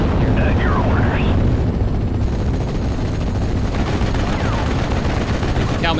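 Machine gun fire and battle noise from the Steel Division Normandy 44 war game form a dense, continuous roar of gunfire and rumble. Short whistling sweeps cut through it.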